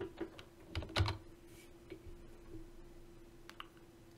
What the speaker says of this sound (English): in the search window type Dynamic Sky.